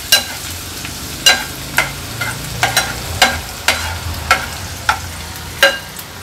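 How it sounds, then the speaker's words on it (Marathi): Small amount of onion frying in hot oil over a low flame for a Malvani-style mackerel curry, a soft steady sizzle broken by about a dozen sharp spoon scrapes and taps against the pan, close by with no talking. "अगदी छोटासाच कांदा घेतलेला मी फोडणीसाठी, कारण का वाटण्यात पण आपण कांदा वापरला आहे। कांदा छान शिजवून घेऊया।"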